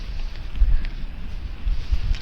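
Steady low wind rumble buffeting the microphone, with gusty swells and no voices.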